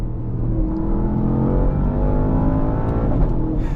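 A Porsche Panamera Turbo S engine in Sport Plus mode roars steadily and climbs in pitch as it accelerates hard, loud and close, with no voices.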